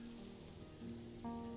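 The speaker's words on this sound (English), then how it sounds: "Immediately it starts raining." Rain in the Planet Zoo video game, a faint, steady hiss of falling rain beneath soft tonal game sounds and a short chime.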